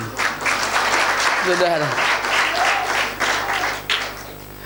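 Congregation applause rises in a church during a Sunday morning Indonesian service, a steady mass of clapping with a voice speaking briefly over it near the middle.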